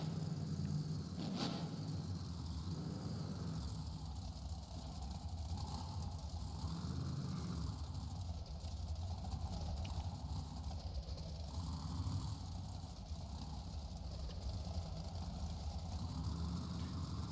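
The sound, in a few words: trucks idling at the start line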